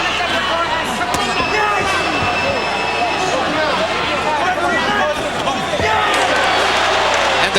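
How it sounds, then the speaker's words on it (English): A packed arena crowd at the 1999 Hamed versus Ingle boxing fight roars and cheers continuously, a dense, loud wall of crowd noise with voices mixed in that swells slightly toward the end. "The crowd cheers mightily"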